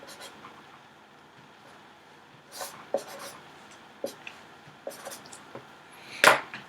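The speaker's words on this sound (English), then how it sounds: "we can write that in here" Short scratchy pen or marker strokes on a board during a physics lesson, appearing as a few brief bursts over quiet room tone, with one louder stroke near the end.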